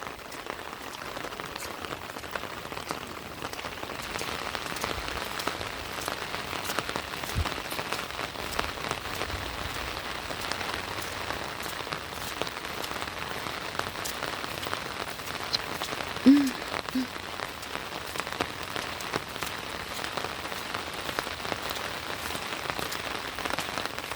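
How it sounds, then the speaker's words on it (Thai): Heavy rain falls steadily on surfaces around a wooden house, a dense even patter of drops lasting throughout at moderate volume, with no speech. "ฝนตกเนาะ"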